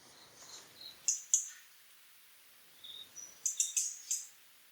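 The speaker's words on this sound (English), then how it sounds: "But the call is just a series of sharp clicks." Hainan blue flycatcher calling in Kaeng Krachan, Thailand: faint, sharp, high clicking notes in two short clusters with a quiet pause between, alone with no other sounds.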